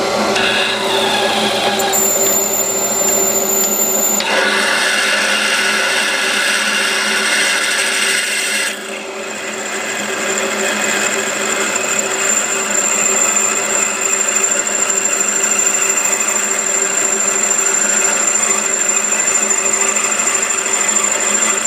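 A power drill whines steadily as it bores through brass, with a high scraping hiss and a brief dip in pitch partway through.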